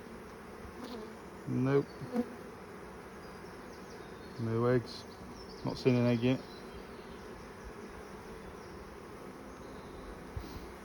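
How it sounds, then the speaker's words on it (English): Honeybees buzz in a steady low drone throughout an open hive inspection, running alone between brief bursts of close talk from the beekeeper. "The bees in there sleeping and eating and getting a bit of the honey."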